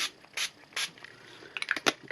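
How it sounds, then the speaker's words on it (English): Diluted denim-coloured clothing dye is misted from a spray bottle onto paper cards in short hissing bursts: two separate sprays, then a quick cluster of rapid pumps near the end, close by with no talk. "So let's just spray a little bit."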